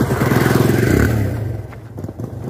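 A motorcycle engine runs loudly and close at first, then its roar drops away as the bike comes to a stop, leaving faint clatter and rumble.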